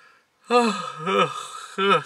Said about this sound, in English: I'm so sorry I yawned on camera